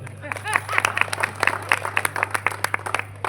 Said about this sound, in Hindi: अगर अच्छी बात लगे तो ताली बजाइएगा